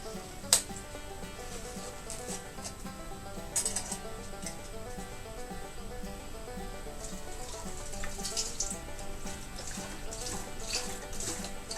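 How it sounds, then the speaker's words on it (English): Apple juice pours into a cider fermenter as a steady, continuous trickle and splash, close and moderately quiet, with a few faint knocks along the way. "First thing I'll do is put a litre of apple juice in."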